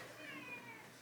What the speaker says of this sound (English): You hear meowing